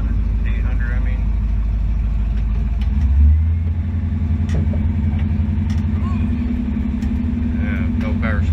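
A car engine idles steadily nearby, a low even rumble with a brief bump in pitch early on, and faint voices in the background.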